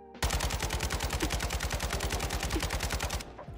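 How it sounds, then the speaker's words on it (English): An automatic gun in Call of Duty: Modern Warfare II fires a rapid, even burst of roughly thirty rounds at a wall, loud and close, then stops abruptly. "take your gun of choice and spray it at wall, anything that will show your bullets."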